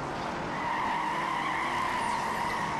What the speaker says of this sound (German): Ich gebe ein bisschen Nitro.